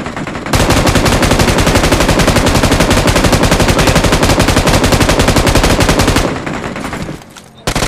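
Sustained rapid automatic gunfire in a shooter video game, loud and dense for several seconds before tapering off, with no talk over it.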